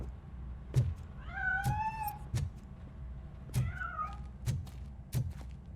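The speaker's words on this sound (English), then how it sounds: "That cat must be hiding inside." A cat in a Robocop video game meows twice, drawn-out wavering cries between repeated sharp thunks and a low background hum, moderately close and clear.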